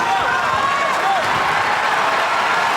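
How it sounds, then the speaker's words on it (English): Arena crowd at a UFC Fight Night in Boston cheering and applauding as a fight nears its end, a dense continuous wash of clapping and shouting with a few higher whistles or yells rising above it. "So the crowd responding here down the stretch."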